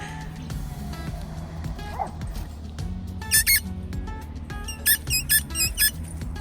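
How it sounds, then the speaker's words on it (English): A dog gives short, sharp yips and barks in quick clusters over a steady low hum, with a couple of isolated squeaky cries first. "he loves the barking session"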